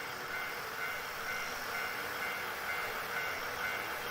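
Steady rumble of a train ride in the Xbox One game Nostalgic Train, a continuous broadband roll with faint rail hiss, moderately quiet and unbroken, with no voices.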